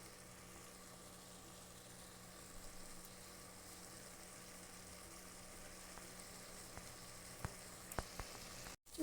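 Broad bean (chikkudukaya) curry frying in oil in a pan gives a steady, faint sizzle running throughout, with a few brief clicks near the end and no talk.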